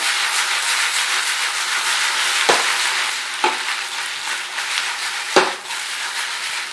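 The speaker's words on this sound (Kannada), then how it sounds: "ಅಲ್ಲಿ ತನಕ ಇದನ್ನು ಹೈ ಫ್ಲೇಮಲ್ಲಿ ಈ ಥರ ಫ್ರೈ ಮಾಡ್ಕೊಳ್ಳೋಣ" Paneer and capsicum fry on high flame in a pan with a loud, continuous sizzle, broken by three or so scraping stirs of a spatula; no one speaks.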